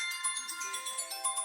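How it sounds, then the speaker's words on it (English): A mobile phone ringtone chimes in a repeating bright electronic melody, pulsing tones recurring every fraction of a second, fairly clear and close with no talk over it. "Sorry, that's my phone."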